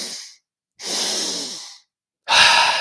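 Rapid, deliberate hyperventilation during a breathwork session for mountain athletes: three forceful breath strokes, close and loud, separated by short silent gaps.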